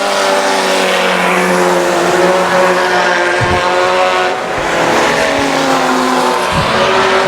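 Race cars roar down the front straightaway at I-37 Speedway, a loud, continuous engine drone with rising and falling pitch as the pack passes close by.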